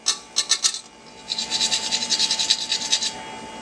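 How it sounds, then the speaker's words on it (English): A fresh whole nutmeg is grated by hand, giving a burst of three quick rasping strokes, a pause, then a longer run of rhythmic scraping, close and crisp with no talking. "It's a new nutmeg, so it needs a couple extra gratings to get to the good part."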